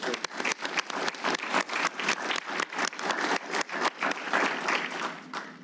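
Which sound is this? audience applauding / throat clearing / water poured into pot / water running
audience applauding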